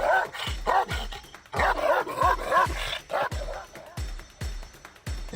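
A dog barks aggressively in a fast series of sharp, loud, close barks with brief gaps, some yips mixed in, while a voice speaks faintly underneath.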